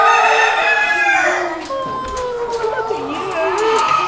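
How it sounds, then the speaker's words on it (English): A silkie rooster crows, a long wavering call close by, with more crowing and clucking in the background and some voices, at the Hobart Show. "It's silky roosters."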